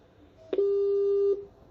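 A telephone line gives a single steady mid-pitched beep of just under a second, clear and loud against quiet, the tone heard when a call is cut off.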